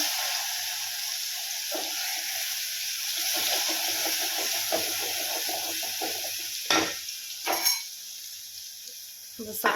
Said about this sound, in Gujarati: હવે શાક વઘારી દઈએ આપણે